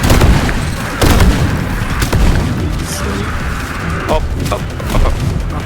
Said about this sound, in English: I can hear plasma exploders.